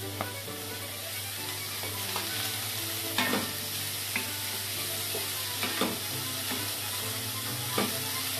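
Oyster mushrooms stir-frying in a hot pan over high heat give a steady, loud sizzle, with occasional scraping stirs and no one speaking.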